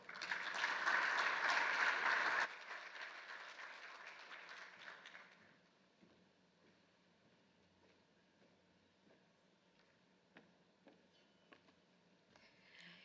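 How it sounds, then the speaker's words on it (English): A conference audience applauds, loud and dense for about two and a half seconds, then quickly thins to scattered claps that fade into quiet room noise. "Another round of applause, please."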